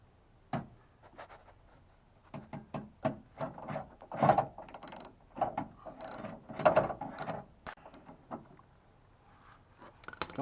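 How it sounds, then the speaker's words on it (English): A screw is removed from a door panel of a 1998–2005 Dodge Intrepid during power window repair, heard as a close series of quick ratcheting clicks in irregular bursts, with quiet pauses in between. "Gonna take that screw all out."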